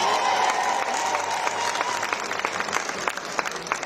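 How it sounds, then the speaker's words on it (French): An audience claps at the opening ceremony of the 2024 Tour Cycliste de la Guadeloupe, a dense, loud wash of applause with crisp individual claps and a faint tonal cheer early on. "Je vais entendre des applaudissements."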